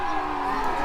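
Spectators cheer the Norman horsemen at a Battle of Hastings reenactment, a dense sustained roar of crowd voices with whoops, loud and continuous for under a second.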